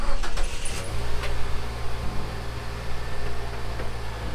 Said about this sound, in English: Now it's time to take out the car off the ramp.